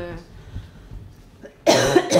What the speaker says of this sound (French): Voyons, j'ai une toux.